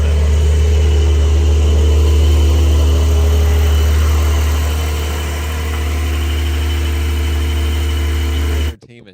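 A car engine runs at a steady idle after starting, a loud low hum with a constant drone and mild vibration that holds for several seconds before cutting off abruptly at the end.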